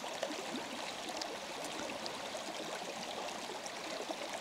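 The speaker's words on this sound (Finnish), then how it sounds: "hienon näköinen pieni joki tässä" A small river in Lapland flows and rushes in a steady, even wash of water noise that is moderately close and stays constant throughout, with no voices.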